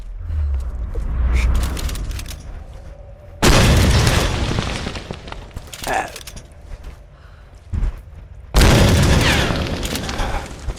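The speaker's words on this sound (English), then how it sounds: "We can get that out of the way with a grenade." Grenade explosions in the Tomb Raider video game, two heavy booms a few seconds apart, each with a long rumbling decay, alongside mechanical clanks and a voice talking between the blasts.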